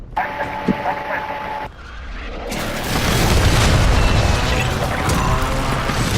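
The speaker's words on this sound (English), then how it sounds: "Airstrike." Airstrike explosions in the video game Warzone, a loud, rumbling boom that swells into a sustained roaring blast, preceded by brief game sounds and a short lull.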